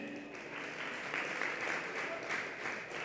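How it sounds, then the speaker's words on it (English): A conference audience at a tech event applauds itself, steady dense clapping and cheering throughout. "clap it up for yourselves"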